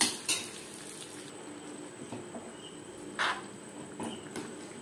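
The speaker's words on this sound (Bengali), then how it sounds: "এভাবে অনবরত নাড়তে হবে, যেহেতু মুগ ডাল রয়েছে তলা লেগে যাওয়ার সম্ভাবনা থাকতে পারে" Khichuri with moong dal being stirred in a pot, with scattered metal clinks and scrapes of a spoon against the pot over a low, steady background hiss, close up and with no talking.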